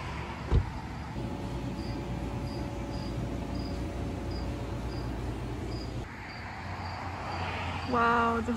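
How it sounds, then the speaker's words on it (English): Cicadas chirp in an evenly spaced, pulsing series of high buzzing calls over a low outdoor background hum, with a sharp knock near the start and a louder rustling burst near the end. "Cicadas."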